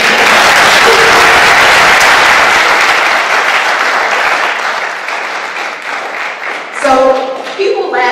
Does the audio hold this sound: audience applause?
yes